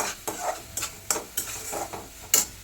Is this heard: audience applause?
no